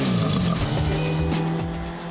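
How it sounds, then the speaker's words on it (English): A 1966 Matra Djet 6 Gordini with a tuned four-cylinder engine fed by two dual carburetors rasps past close by, its engine note rising and falling briefly with a touch of tire noise. "Two dual carburetors deliver high performance and a raspy sound."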